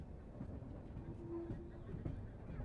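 The 22412 Arunachal Express rolling into Harmuti Junction gives a low, continuous rumble with rail noise and faint squeals, steady and close, while a voice speaks over it.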